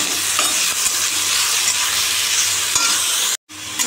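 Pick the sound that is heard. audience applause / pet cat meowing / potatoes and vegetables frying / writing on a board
potatoes and vegetables frying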